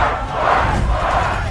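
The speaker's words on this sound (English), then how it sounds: "The crowd erupts." A large crowd at a trial by combat bursts into loud, massed shouting and battle cries, a dense roar of voices sustained throughout without any distinct speech.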